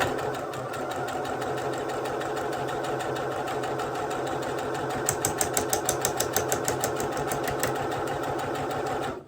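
A sewing machine stitches a buttonhole into a linen shirt, its steady fast needle rhythm running continuously up close, with a brief stretch of sharper, more pronounced stitch beats partway through and no talk.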